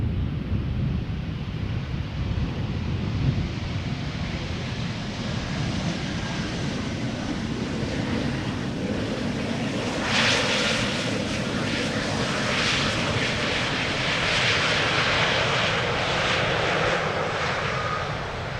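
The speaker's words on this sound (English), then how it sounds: "Embraer 190 having arrived from London City." An Embraer 190 jet airliner arriving at Schiphol Airport gives a loud, continuous engine roar with heavy wind buffeting the microphone, swelling slightly as it passes nearby, with no voices.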